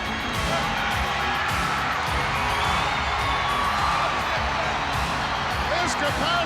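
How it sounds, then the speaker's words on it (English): A capacity arena crowd roars for Hulk Hogan's wrestling entrance, a dense, sustained wall of cheering and whooping that never lets up. "This capacity crowd is on its feet."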